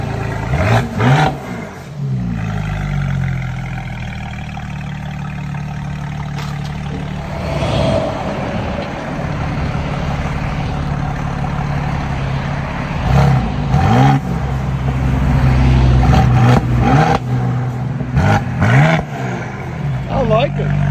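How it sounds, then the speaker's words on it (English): A Mercedes GLE 43 AMG 3.0-litre bi-turbo with its muffler removed and a tuning chip fitted revs loudly in several rising and falling bursts, a deep exhaust roar with people talking over it. "Those bi-turbos, man, make it sound like crazy."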